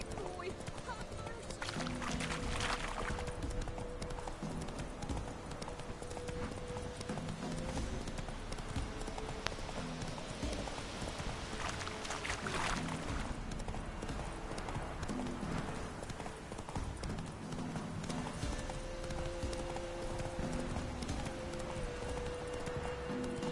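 A horse in The Witcher 3: Wild Hunt video game, galloping with steady, continuous rapid hoofbeats under game ambience and music for the whole stretch, while voices speak at times.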